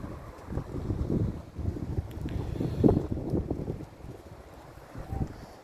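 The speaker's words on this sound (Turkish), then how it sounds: "Havada zaten rüzgarlı bakın arkadaşlar" Gusts of wind rumble and buffet the microphone in uneven surges, fairly faint and low, with no talking.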